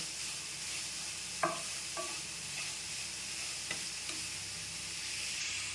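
A spoon scrapes and stirs coarse rock salt into carrot rice in a pan, giving a few sharp scraping clacks over a soft continuous sizzle with no talking.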